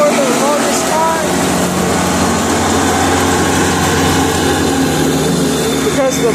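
A lawn mower engine runs steadily while mowing a yard, its loud continuous drone close by, with someone talking over it throughout.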